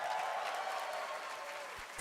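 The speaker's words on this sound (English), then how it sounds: "I'm clapping." Applause from a crowd at a live Roblox developer conference, a dense steady wash of clapping that runs the whole time with no talk over it.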